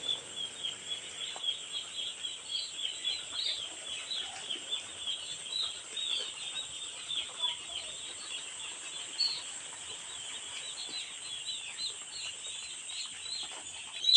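Farm chickens crowded together in one spot keep up a steady, dense chorus of clucks and chirps, continuous and fairly even for the whole stretch, with no voices.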